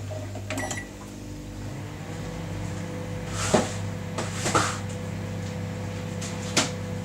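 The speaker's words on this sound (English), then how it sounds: "and then I'm just going to pop them in the microwave." A microwave oven heats a couple of corn cobs in a bowl of water, giving off a steady low electrical hum with a few soft clicks and clunks over it; no one speaks.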